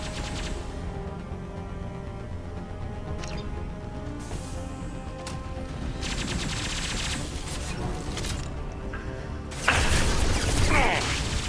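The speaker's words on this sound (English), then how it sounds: "Oh, he's shooting me." A Vorcha enemy in Mass Effect 2 fires at the player in rapid bursts of gunfire that grow louder and denser toward the end, with close, rattling shots over steady background game noise.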